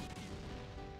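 A single gunshot rings out as Irvine fires Zell's grandfather's gun in Final Fantasy VIII, a dense, loud blast with a rolling low-end decay over about a second.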